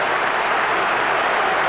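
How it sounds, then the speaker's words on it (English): A huge crowd roars at the MCG during a 1994 Essendon versus Collingwood Australian football match, a dense, steady wall of cheering that holds at full level throughout. "a huge crowd here at the MCG"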